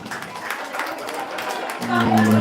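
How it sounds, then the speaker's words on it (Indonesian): A village crowd at an outdoor hamlet festival bursts into lively, sustained applause with a dense, noisy wash of hands, and a tonal sound enters near the end. "tepuk tangan yang meriah, nggih."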